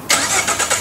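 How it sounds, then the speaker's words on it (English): A car engine cranks and fires with a push-button keyless ignition fitted with an aftermarket Digital Guard Dawg iKey RFID system, a quick loud burst of starting noise pulsing through under a second. "To start the car, simply put your foot on the brake"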